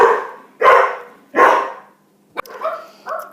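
Several dogs bark loudly and close by in two long, strong barks, followed by a sharp yip and quieter yelping barks, with no talking.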